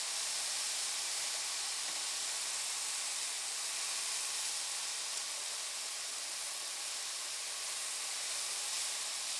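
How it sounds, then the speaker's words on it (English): Steady, bright hissing crackle of food frying in a hot pan, constant and close throughout with no voices. "listen to that sizzle"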